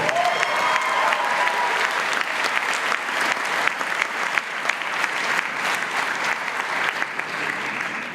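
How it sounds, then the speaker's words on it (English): Sustained applause from a large audience at a university graduation ceremony in Dubai, a dense, even wash of clapping that holds steady throughout and fades slightly at the end. "That deserves a round of applause too."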